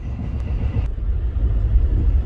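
The Airlangga passenger train rumbles at a station with a steady, loud low-frequency roar and no voices.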